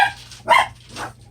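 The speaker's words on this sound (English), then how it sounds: "The doggy is running, barking after something." Dog barking while running after something outdoors, two or three short barks with the loudest in the middle, at moderate distance.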